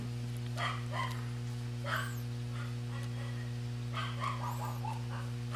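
A dog barks in short, repeated bursts at a moderate distance, set against a steady indoor electrical hum.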